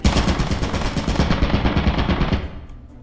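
Rapid, sustained automated turret fire in Lethal Company, a dense loud stream of shots for most of the stretch that cuts off and decays near the end.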